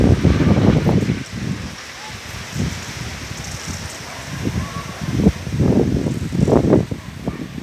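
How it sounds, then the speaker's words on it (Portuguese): Strong wind in São Luís, Maranhão roars in gusts that surge and fade, loud and close against the microphone, while people talk excitedly beneath. "Aí, ó, o vento louco aí"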